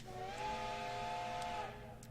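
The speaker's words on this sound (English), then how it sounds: "We hear a sharp whistle." A sharp, sustained steam whistle sounds for almost two seconds in a game scene: a steady harmonic tone with a faint hiss beneath it, loud and clear, ending abruptly.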